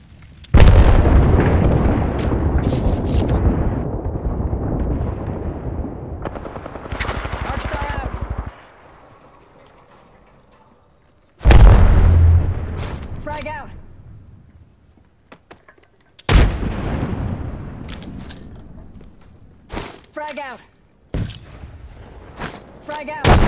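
Thermite grenade and Arc Star blasts in a shooter video game, heavy bursting explosions and gunfire-like crackle in loud separated waves, with quieter gaps between them and a voice speaking over parts.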